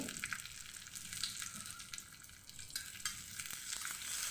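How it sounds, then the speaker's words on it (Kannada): Mustard seeds, red chilli pieces, curry leaves and asafoetida sizzle steadily in hot coconut oil for a Kannada-style tempering, a dense bright crackle with scattered pops, close and alone without talk. "ಸಾಸಿವೆ ಕಟಪಟ ಅಂದಮೇಲೆ ಇದನ್ನೆಲ್ಲ ಹಾಕಿದ್ರಾಯಿತು"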